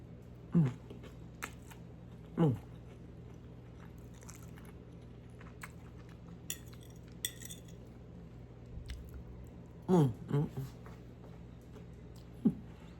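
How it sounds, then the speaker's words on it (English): Crunchy salmon croquettes, flaky inside and crisp outside, being bitten and chewed up close: a few sharp crunchy bites with quiet chewing between them, in a quiet room with no talking. "I think I'm gonna stand here and eat this whole salmon."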